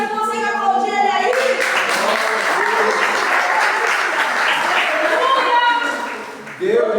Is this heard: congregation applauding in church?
yes